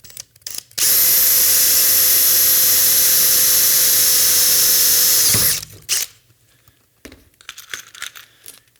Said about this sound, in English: So that means I'm going back to my 3/16 or maybe number 11 drill bit.